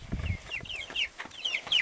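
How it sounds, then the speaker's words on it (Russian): Young chicks in a village yard give a run of short, rising peeps and soft clucks, several quick calls close by with brief gaps and a low thump at the start. "Вон наши цыплятки."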